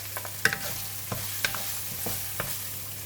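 Ginger-garlic paste, curry leaves and green chili frying for chicken kurma: a close, steady sizzle with several sharp spoon-against-pan taps at irregular intervals.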